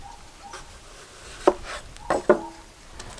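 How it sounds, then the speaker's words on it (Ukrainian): Potatoes are sliced with a knife on a cutting board, giving a few sharp, close knocks spaced irregularly, with a quiet pause before a quick pair of chops. "Набагато легше різати на досточки отак такими ломтиками"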